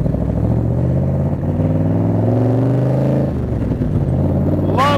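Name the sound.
1965 Shelby Cobra replica engine accelerating through gears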